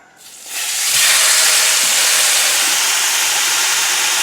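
A steak in a buttered pan, with maple syrup, bursts into a loud, continuous sizzle after a brief quiet start, a dense close-up hiss holding steady to the end.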